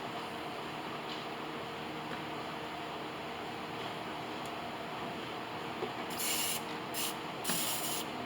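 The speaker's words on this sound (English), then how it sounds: "We can even shoot it with a little bit of oil to help." Short hissing bursts of spray oil are shot onto the threads of a LeBlond RKL lathe spindle, three quick sprays near the end over a steady low background hum, with no talk.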